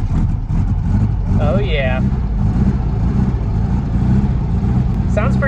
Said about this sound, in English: Started up and ran, not quite wanting to idle yet.